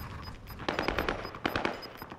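Rapid bursts of automatic gunfire in a battle-royale shooter game, several quick volleys of sharp cracks in a row, fairly close and loud.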